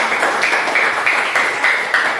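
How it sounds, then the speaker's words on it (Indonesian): Students in a classroom applaud a winning group, a dense, steady wash of many hands clapping close by at an even loudness throughout. "tepuk tangan"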